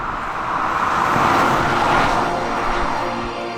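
A front-wheel-drive 2024 Polestar 2 electric car accelerates with a smooth rising whoosh of road and wind noise that swells and then eases, heard from inside the cabin with no engine note.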